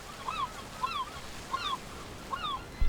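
A herring gull (Larus argentatus) gives four evenly spaced, downward-sliding calls, each clear against a quiet background.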